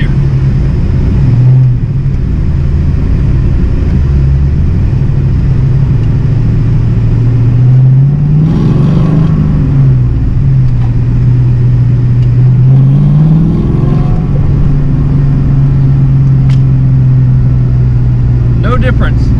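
A 1986 Mustang GT on a test drive with a newly fitted aluminum driveshaft on a hot day, its engine droning loudly and steadily from inside the cabin, rising and falling twice as it accelerates.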